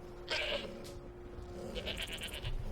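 A goat bleats in Skyrim, two or three short wavering cries close by over a low steady hum and soft background ambience.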